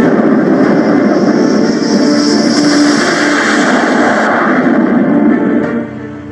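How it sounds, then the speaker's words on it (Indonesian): Dassault Rafale fighter jet flying, a loud continuous broadband roar that holds steady throughout and drops away slightly near the end, with no talk. "menjajal pesawat tempur Dassault Rafale"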